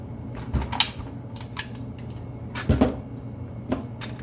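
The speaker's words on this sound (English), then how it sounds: "You feed this in, clicks in like any other mag would." An airsoft magazine being pushed into a bullgear box magazine well, with several close, short plastic clicks and knocks spaced out over a few seconds.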